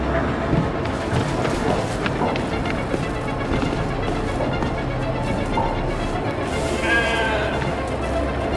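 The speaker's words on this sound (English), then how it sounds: "Never thought I'd be so glad to see a sheep." A sheep bleats inside the video game The Alters, its cries mixed into a loud, busy game soundscape of rumbling ambience and a voice.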